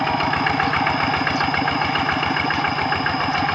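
A tractor engine chugging steadily in a rice field during plowing practice, a loud, close, rhythmic pulsing idle with a rattling metallic knock and no pauses.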